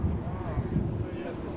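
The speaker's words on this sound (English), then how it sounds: "It's getting very windy." Strong wind blows sand across open ground in Alamogordo, roaring and buffeting the microphone in a continuous low rumble.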